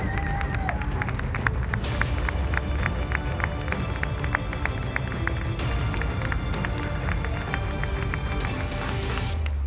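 Prolonged applause from a science-communication competition audience, steady rapid clapping with some cheering and crowd murmur, sustained at moderate level throughout.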